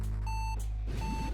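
Two evenly spaced electronic beeps, each lasting about a third of a second, come from an enemy in the video game Axiom Verge 2, heard over a low droning hum and soft game sounds.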